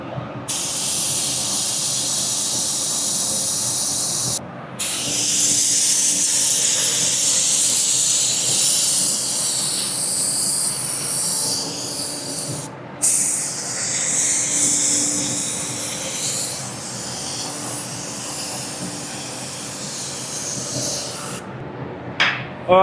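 Long continuous hissing bursts of a spray gun laying down clear coat on an old Datsun pickup, loud and close, with brief pauses between passes.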